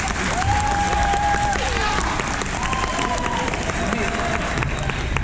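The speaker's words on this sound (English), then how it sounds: "so it looks like there's some applause." Audience applauding at a university orientation session, a dense steady wash of clapping filling the whole stretch at even loudness, with faint voices mixed in underneath.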